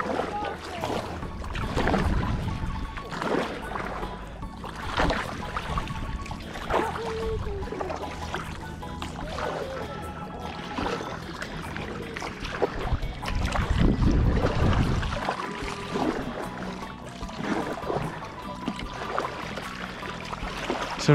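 Kayak paddle strokes splash and drip on water at a steady rhythm, with wind buffeting the microphone and occasional voices in the background.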